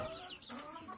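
Chickens about a month and a half old cluck on a farm, a steady close chorus of short calls with one brief louder squawk near the start, and no talk over it.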